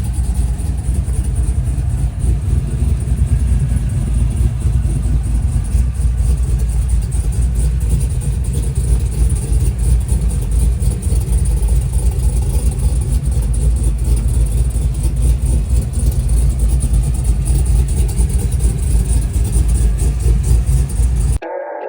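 A deep, rumbling cammed 6.6L V8 exhaust on a 2024 GMC 1500 4x4 truck, with a full Speed Engineering exhaust, idles and burbles steadily for a long stretch, loud and close, with no talking.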